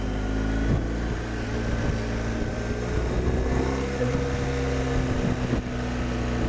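Steady tonal whine from Dunlop Mutant tyres rolling at speed, a continuous hum under broad road and wind rumble, with no talking.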